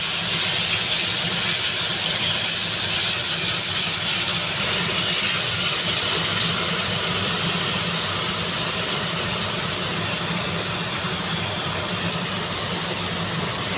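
Onion, garlic and ginger paste fries in a pan for chicken, giving a loud, close, continuous hissing sizzle that holds steady throughout with no pauses.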